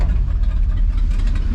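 A 1979 Ford F150 pickup's engine rumbles steadily at low speed as the truck rolls into a gas station, its deep drone continuous and fairly loud throughout the short stretch with no talk.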